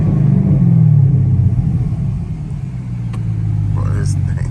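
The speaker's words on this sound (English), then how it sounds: "Give it a few revs." Camaro ZL1 engine revving at night, a loud deep rumble that swells early, eases off and builds again, recorded from inside the car.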